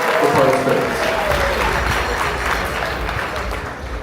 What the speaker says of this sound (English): Let's give a big round of applause one more time for Parth's parents.